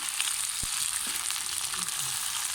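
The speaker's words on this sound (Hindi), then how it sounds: "तो ये फ्राई हो रही है" Okra (bhindi) frying in a pan sizzles steadily and close, with a soft stirring knock or two beneath the continuous hiss and no voices.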